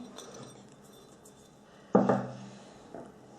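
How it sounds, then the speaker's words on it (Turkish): Yogurt being scraped from its container with a spoon for pumpkin cake batter, a short quiet scrape and clink of utensil against the pot near two seconds, close and alone. "Yoğurdumuzu güzelce şöyle sıyıralım."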